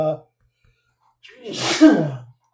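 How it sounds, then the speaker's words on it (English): A single sharp sneeze, close and loud, following a brief silence. "sorry guys, I had to sneeze."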